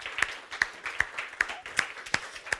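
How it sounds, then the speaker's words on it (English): A small conference audience claps for the delegates, sparse and uneven with a few distinct sharp claps standing out roughly every half second against a quiet room. "Big thanks and applause for all the delegates."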